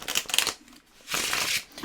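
A deck of tarot cards is shuffled by hand at close range, giving two quick papery riffling bursts separated by a short pause.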